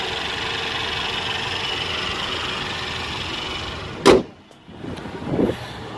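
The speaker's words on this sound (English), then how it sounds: "So this is a 2-liter turbocharged four-cylinder engine, good for 241 horsepower." A 2017 Mercedes-Benz GLC300 4MATIC SUV with a 2-liter turbocharged four-cylinder engine idles at a low, steady hum, then a brief sharp mechanical clunk cuts in and the sound drops away before a softer whir returns.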